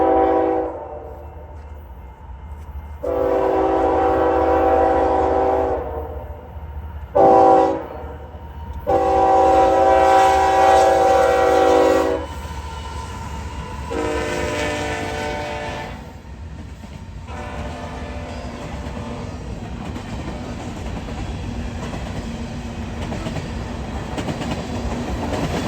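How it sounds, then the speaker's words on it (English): A Union Pacific freight train heading toward Fort Worth's Davidson Yard near Weatherford, Texas, sounds loud horn blasts over a steady rumble, then its cars roll past with continuous rail clatter and grinding. "for the last train of our day, Union Pacific MEPFW10 began highballing down towards Fort Worth Davidson Yard"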